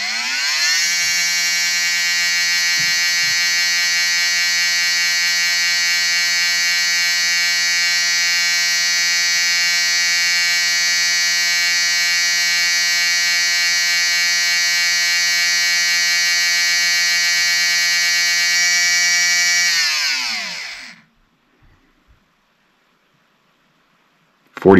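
An R1 Wurks V21-HD 21.5-turn brushless RC motor spins up under a timing test, giving a steady, loud, high-pitched electric whine that holds for about twenty seconds, then winds down to silence, with no talking.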